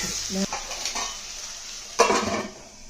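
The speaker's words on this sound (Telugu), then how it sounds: "దీనిలో టమాటా టమాటా వేసి ఇలా కలిపేసి సరిసిమ్లోనే ఉంచుకోవాలి" Tomatoes are stirred into a cabbage and chana dal curry in a pan, giving a soft background sizzle broken by a few clanks and one louder scrape of the spoon against the pan.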